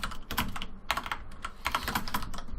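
Typing on a computer keyboard, quick irregular clusters of close key clicks with short pauses between bursts.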